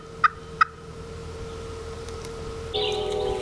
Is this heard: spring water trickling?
no